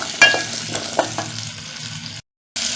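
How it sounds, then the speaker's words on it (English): Butternut squash soup seasoned with salt and black pepper is stirred in a pot, a steady sizzle with a few soft scraping strokes, then a brief cutout before the bubbling resumes. "We're going to stir to mix in our flavors"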